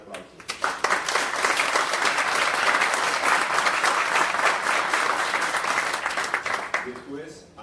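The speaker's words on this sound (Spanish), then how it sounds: "Les pido un fuerte, fuerte aplauso." A crowd at a European franchise awards breakfast breaks into loud, sustained applause, building quickly from a few early claps into a thick, even roar of clapping that tapers off near the close.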